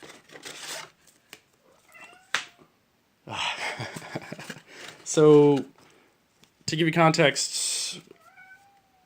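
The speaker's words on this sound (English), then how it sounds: "I wonder if you guys can hear my cat meowing in the background." A domestic cat meows twice, clear and fairly close, between stretches of a person talking.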